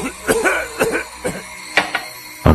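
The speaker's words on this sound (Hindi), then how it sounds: "और वो खांसने लगा।" A man coughs in a dramatized horror audio story, several close, harsh coughs in an uneven series, each separated by short pauses, with no speech over them.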